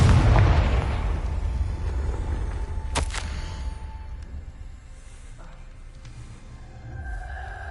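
A Confringo blasting spell explodes in Hogwarts Legacy, a loud fiery burst that rolls and fades, followed by a sharp crack partway through and a quieter rumbling tail.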